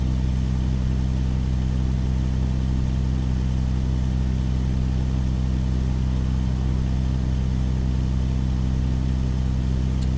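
Truck engine in American Truck Simulator, around 550 to 620 horsepower, droning at a steady low idle-like hum with a constant high whine above it, unbroken and alone for ten seconds.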